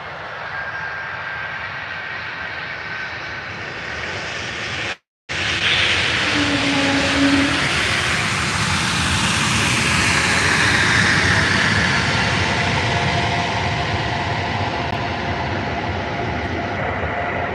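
An Airbus A320 jet at Faro airport roars loudly and steadily as its engines spool up, with a distinct whale-like tonal moan rising through the sustained rumble after a brief gap.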